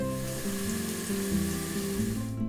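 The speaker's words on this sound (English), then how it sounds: "Once hot, add the chopped onion and grated garlic. Cook for a few minutes." Chopped onion and grated garlic fry in hot olive oil in a large pot over medium heat, a steady close sizzle that continues evenly, with a tonal background and no talking.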